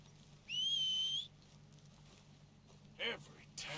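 In Red Dead Redemption 2, a character gives a clear rising two-tone whistle to call his horse, followed by a short second whistle burst and soft game ambience.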